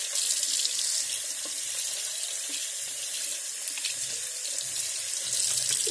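Tap water runs steadily into a sink or tub during a bath, a continuous close splashing rush with no one speaking.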